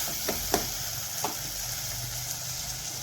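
Chilli powder sautéing with onions and tomatoes in a pan while sambar is cooked, with a soft, steady sizzle and a few faint clinks of stirring.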